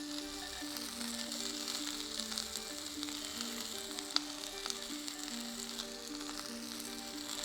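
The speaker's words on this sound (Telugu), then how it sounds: "మనం ఇప్పుడున్న కూరగాయలన్నీ అందులో వేసుకొని కొద్దిగా టాస్ చేసుకుందాం" Vegetables for a green Thai curry sizzle in a hot pan as they are tossed, a steady close hiss throughout with a sharp knock of the pan partway, and a faint tone humming in the background.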